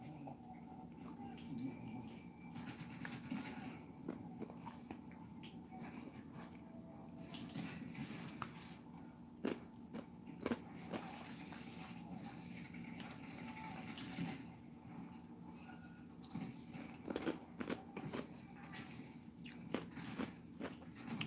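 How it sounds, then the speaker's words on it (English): A person chews ice at close range, producing quiet, irregular crunches and bites scattered through the stretch. Talk is heard around and between the crunching. "I'm chewing ice."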